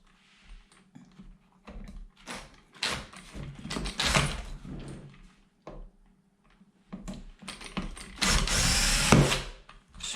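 Power drill loosening long bolts that pass through the gearbox of a Kraken VESLA 5th scale RC car, with short bursts of whirring separated by pauses and two longer, louder runs near the end.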